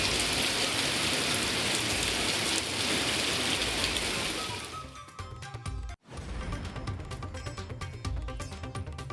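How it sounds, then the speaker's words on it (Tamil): Summer rain pours over the Melur and Ilayangudi area in Tamil Nadu, a dense steady hiss of downpour that thins out partway through into scattered patter and clatter. "மேலூர், இளையான்குடி சுற்றுவட்டார பகுதிகளில் கொட்டிய கோடை மழை"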